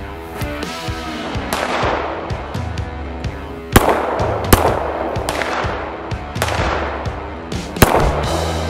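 A Canik TP9 Elite Combat pistol fires at steel shooting-gallery targets: a few loud, sharp shots at irregular intervals over a clattering, ringing background.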